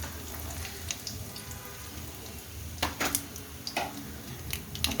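Mustard seeds, cumin and crushed garlic crackle in hot oil in a kadhai, with scattered sharp pops and spits over a faint background hiss, close and fairly quiet.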